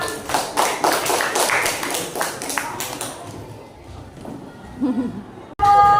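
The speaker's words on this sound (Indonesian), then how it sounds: "tepuk tangan buat Salsa" A classroom of students at an Indonesian school claps for a student presenter, a loud uneven patter of hands for a few seconds that fades into quieter room noise, ending with a sudden bump.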